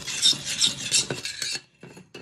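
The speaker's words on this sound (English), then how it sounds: "And then I'm going to add 1 to 2 tablespoons of olive oil. And mix that all together." A spoon or utensil mixes an olive oil mixture in a bowl, producing close, scraping, rasping strokes in a steady back-and-forth rhythm that break off briefly near the end.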